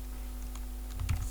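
Soft keystrokes tap on a computer keyboard under a steady background hum, quiet and close, with a slightly busier cluster of clicks near the end.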